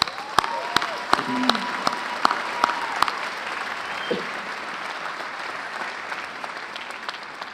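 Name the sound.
audience applause for graduates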